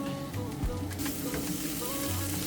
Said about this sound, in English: Cayenne pepper on frying onions, garam masala, black pepper, cumin, coriander,